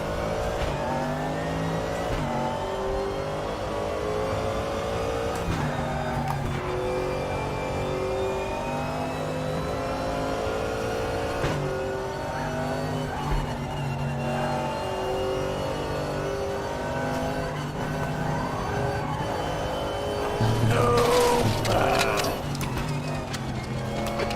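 GT3 race car engine lapping Bathurst's Mount Panorama in a sim racing game, droning steadily at high revs with rising and falling pitch through gear changes, loud and continuous, with a brief louder burst near the end.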